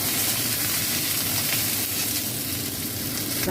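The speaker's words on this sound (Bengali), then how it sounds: "এর সঙ্গে আমি একটু ডাঁটা দিয়ে দিলাম। ডাঁটাটা নিয়ে এবার ভেজে" Mixed vegetables with drumstick stems fry in a pan, giving a loud, continuous close-up sizzle and hiss that holds steady throughout with no voices.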